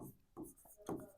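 Marker or chalk strokes writing a question on a classroom board, three or four short scratchy bursts with brief pauses, close and moderately quiet, with no talking.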